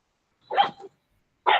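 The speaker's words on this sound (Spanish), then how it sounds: "el perrito primero saludó" A small dog gives a sharp double bark, then a single yip a moment later, close and clear against silence.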